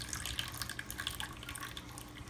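Rinsed sprouting seeds draining water through a screen mesh, giving a quiet, continuous patter of fine drips and trickles close by, with no voices.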